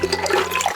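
Water splashing from a public hand tap as a container is rinsed out, a brief close gush with bubbling, heard alone.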